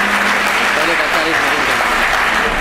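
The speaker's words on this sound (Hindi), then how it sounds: "मंच पर आ चुके हैं, ज़ोरदार तालियों से इस्तकबाल कीजिएगा" Continuous loud applause from the audience at a community workers' gathering as a speaker takes the stage, with a voice talking over it.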